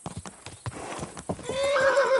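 Quick clopping hooves, then a loud horse neigh rising and trailing off at the end, with a game-like sound quality, in Kingdom Come Deliverance 2.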